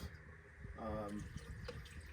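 Water pours steadily into a car radiator of a 426 HEMI Cuda during a coolant flush, a faint gurgling fill with a brief rising burble in the middle.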